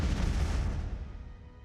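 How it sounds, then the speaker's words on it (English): Fusion bombs dropped on a planet in Master of Orion: a heavy rumbling barrage of explosions, loud and dense at first, then decaying into a fading low boom. "we're going to drop all the bombs on this planet"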